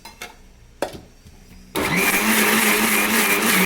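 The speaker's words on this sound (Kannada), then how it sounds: "ಈಗ ಮಿಕ್ಸಿಲಿ ಗ್ರೈಂಡ್ ಮಾಡ್ತೀನಿ. ಸ್ವಲ್ಪ ನೀರು ಹಾಕ್ಕೊಂಡು ರುಬ್ಕೊಳ್ಳಿ ನುಣ್ಣಗೆ." After a couple of soft knocks and clatters, a kitchen mixer grinder roars to life and runs loudly and steadily, grinding coconut and coriander masala with a little water for a chickpea (kadalekalu) sambar.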